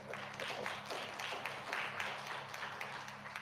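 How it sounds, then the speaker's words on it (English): Audience applauding steadily for a few seconds at a hip hop talk or lecture, a dense even patter of many hands at moderate volume. "let's give them a round of applause"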